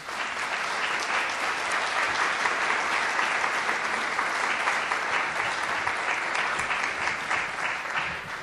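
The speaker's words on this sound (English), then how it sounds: "Go ahead and give him a round of applause." An audience claps steadily to welcome a speaker at an evening talk, dense sustained applause from a large crowd with an even level and no pause across the stretch.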